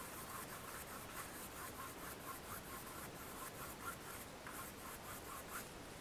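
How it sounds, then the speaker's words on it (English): A paint brush makes crisscross blending strokes on canvas in an oil floral painting, a soft, steady rhythmic scrubbing at close range and fairly quiet, with no talk. "So just go ahead and do your little crisscross strokes"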